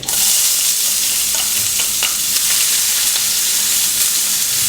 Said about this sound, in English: and saute until light golden and translucent